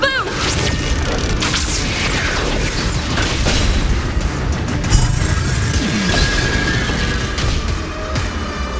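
Bolts loosed from a bow in the Honkai: Star Rail video game, a dense barrage of booming impacts, crashes and bursts layered over swelling game music, with voices heard briefly amid the din.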